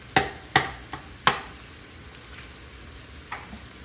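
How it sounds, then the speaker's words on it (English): Chicken liver drops into a hot pan with onions pushed to the sides, each piece giving a sharp crackling sizzle. Four quick hits land close together, then a quieter background fry, then one more softer sizzle near the end. "that's the sear that we're hearing"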